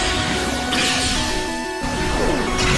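A heavy smashing attack lands in Pokémon Battle Revolution, a loud crashing impact over busy game music and effects.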